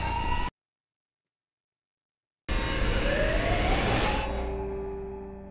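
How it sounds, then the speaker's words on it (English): A loud siren from the 2007 film Halloween wails with rising and falling pitch after a sudden silence, close and continuous, fading slightly toward the end. "I love that we only hear the siren"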